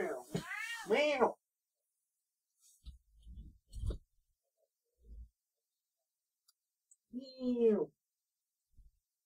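Cat crying to be let out, with a few loud, drawn-out meows at the start and again near the end, separated by quiet stretches holding soft clicks and thumps.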